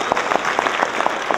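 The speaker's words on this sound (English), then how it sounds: "Can we give Sergeant Oliver a round of applause real quick?" An audience at a military unit gathering gives a short round of applause, a moderate scatter of claps in a room.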